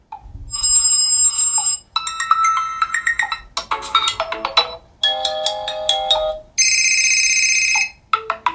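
A loud TCL 50 XL 5G phone plays ringtones through its loudspeaker as a series of bright melodic tone bursts, several distinct ringtones in a row separated by brief gaps.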